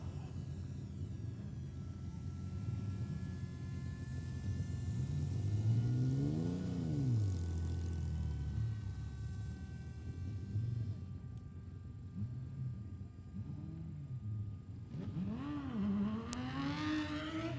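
A production sedan race car doing donuts at Kingaroy Speedway after an A-Main feature race, its engine revving and swooping in rising and falling pitch at middle distance, with crowd and commentary faintly beneath.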